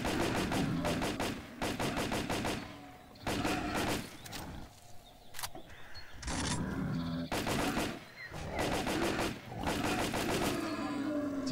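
Bursts of automatic gunfire from weapons in the S.T.A.L.K.E.R. video game, loud sustained volleys with brief gaps between them, repeating across the whole stretch with no talking.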